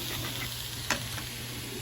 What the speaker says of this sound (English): Basically, we're just going to brown it,